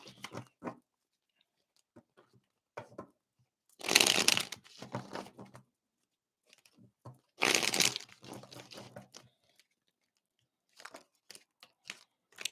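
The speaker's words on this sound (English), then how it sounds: "Let's pull some cards for you guys." Tarot cards being shuffled by hand in quick riffling bursts, two louder bursts among softer scattered card handling and rustles, close and quiet with no voices.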